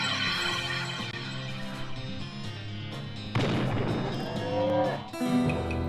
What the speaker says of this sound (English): These cows can go whichever direction they want.